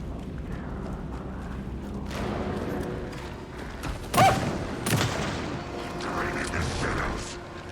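Gunfire in the video game Alan Wake 2: several sharp shots stand out over a murky, rumbling game soundscape, with one loud blast in the middle and a few lighter hits after it.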